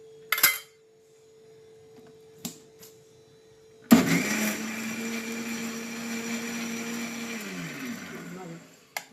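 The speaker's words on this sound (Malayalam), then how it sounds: "നമുക്ക് ഇതിനകത്ത് തൈരും കൂടി ഇട്ട് അടിച്ചെടുക്കുക" A blender grinding mustard and curd for a pumpkin pachadi whirs loudly and continuously after a few brief knocks, then winds down as its pitch drops.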